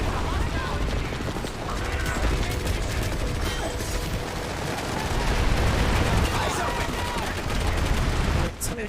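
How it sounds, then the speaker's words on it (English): Gunfire in the online shooter PlanetSide 2 crackles in rapid, continuous bursts, with dense, loud shots filling the scene and a voice talking over part of it. "Somebody was shooting at me."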